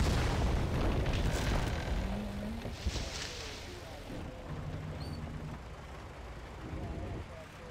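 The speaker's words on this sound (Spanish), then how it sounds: "Vamos a hacer un disparo aquí, a ver." A deep boom of an explosion rolls out at the start, followed by rumbling battle noise and scattered distant shots in the video game Total Conflict: Resistance, with some voice-like sounds mixed in.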